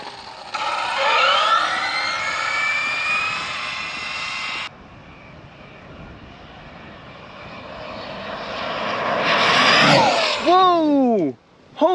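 A 1/5 scale Arrma Kraton RC car screams at high speed, its motor whine rising and falling in sweeping pitch shifts, loud and close, with a brief drop near the end and people talking over it.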